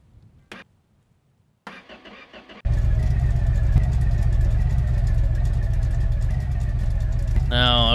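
A 1970 Chevrolet El Camino drag car engine cranks with brief starter bursts, then catches and settles into a loud, steady, rumbling idle that fills the rest of the clip, close by.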